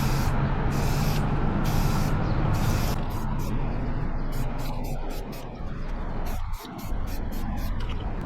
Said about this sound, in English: You don't want to put too much spray paint on there initially